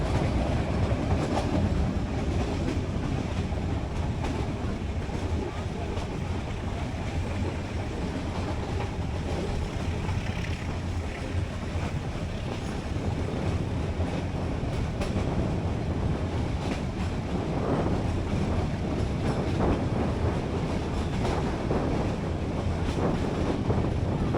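A meter gauge train runs on rails through the Gir forest between Junagadh and Sasan Gir, a steady loud rumble and clatter of wheels on track with wind buffeting the microphone, no talk.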